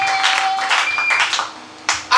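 A church congregation claps in acclaim of the Lord, a warm burst of applause from a crowd indoors that fades briefly, then swells again with a few loud claps at the end; a tone rings faintly beneath.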